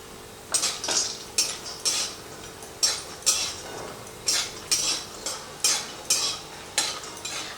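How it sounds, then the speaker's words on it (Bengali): Bori lentil dumplings fry in mustard oil in a wok while a metal spatula stirs and scrapes them, a regular rhythm of close, crisp scraping strokes over a faint, low sizzle. "তেলের মধ্যে প্রথমেই আমি এই বড়িটাকে ভেজে নেব"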